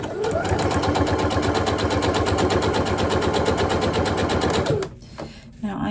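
A sewing machine stitches binding onto a quilt in one steady, fast, loud run of needle strokes for nearly five seconds, then stops abruptly, leaving a brief quieter tail.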